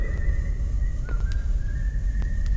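Someone whistles in the VR horror game Forewarned, a thin wavering tone that holds and slides over a low ambient drone, with a few brief sharp clicks mixed in and no talk.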